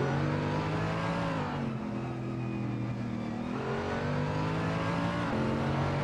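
Mercedes and Nissan GT race cars lapping Interlagos in a sim race, a continuous droning engine note rising through the gears with shifts, loud and steady, no talk over it.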